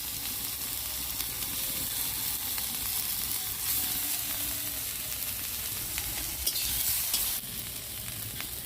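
Ginger paste and cumin paste frying in oil for a fish curry, a steady moderate sizzle with faint stirring, no voices.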